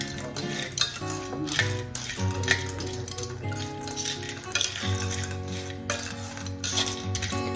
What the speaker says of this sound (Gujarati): તો આપણી જે ખરી સાકર એકદમ સરસ મેલ્ટ ન થઈ જાય ત્યાં સુધી આપણે એને આ જ રીતે સતત હલાવતા જઈશું.